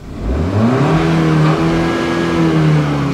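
A Suzuki Swift Sport engine sits in neutral and is revved up to about 5000 rpm. The note climbs steadily, then holds at a loud, sustained high whine for a few seconds, with no talking over it.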